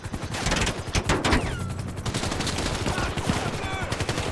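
Rapid bursts of gunfire in GTA 5 during an airplane-hijacking mission, loud and continuous with overlapping shots, while a player talks excitedly over the shooting.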